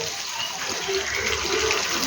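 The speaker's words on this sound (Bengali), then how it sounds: "একদম সামান্য একটু জল দিয়ে দেবো।" Water pours steadily into a pan of hilsa fish, a continuous close splashing gush for about two seconds.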